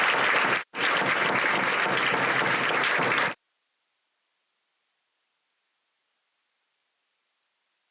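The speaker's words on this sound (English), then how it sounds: "Let's give them a nice round of applause." Applause at a school board meeting: loud, dense clapping from a room of people that breaks off for a moment, resumes, then stops abruptly into near silence.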